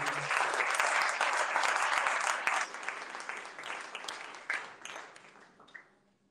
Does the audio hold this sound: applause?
yes